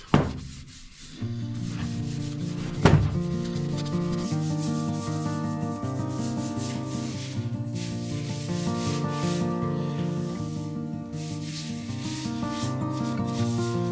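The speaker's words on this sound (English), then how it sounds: "I've got my boiled linseed oil here. Apply it on here very liberally." Boiled linseed oil being rubbed liberally onto a cheap hatchet with a cloth, a steady close scrubbing and rubbing sound with a sharp knock near the start, alone and moderately quiet.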